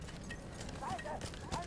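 Horse hooves clip-clop in the World War I shooter Battlefield 1, a few soft hoofbeats under a dense wash of game noise and background sound.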